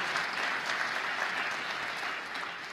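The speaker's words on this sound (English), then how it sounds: "Let's give him a round of applause." A political audience at a State of the State address in the Bronx applauds, a dense, even wash of clapping at moderate distance that holds steady, then eases slightly at the end.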